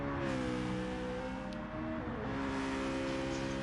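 A race car fitted with a racing exhaust in Gran Turismo 7 at Atlanta holds a steady, loud engine tone that drops in pitch partway through, with brief crackling at the shift.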